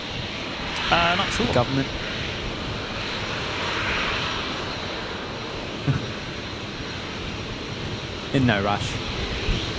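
A plane takes off using the full runway at Brisbane International Airport, a steady broad roar holding through the whole stretch, with people talking briefly over it now and then.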